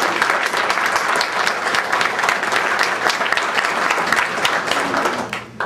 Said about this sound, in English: Janet, stand up and get a round of applause.